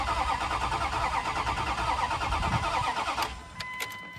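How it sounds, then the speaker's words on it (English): A 2001 Dodge Dakota pickup with a freshly replaced water pump cranks over with a fast, even, rhythmic starter churn, close and fairly loud, stopping abruptly near the end with a faint lingering hum. "The cranking of it sounds really good"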